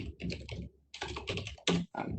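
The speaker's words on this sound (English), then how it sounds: "I'm typing it on Google so that" Rapid typing on a computer keyboard, close, quiet clusters of clicks in short bursts with brief pauses between.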